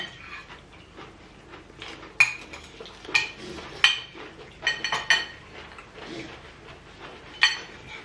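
Cabbage stir-fry being stirred in a pan at home, with a utensil scraping and clinking against the metal in irregular, fairly close bursts amid quiet kitchen clatter.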